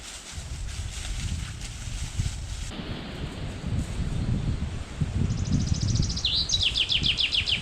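Birds chirp and sing in a Prykarpattia forest over a rustling, breezy background, with a brighter trill of calls rising near the end.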